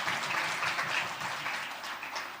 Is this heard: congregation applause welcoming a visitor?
yes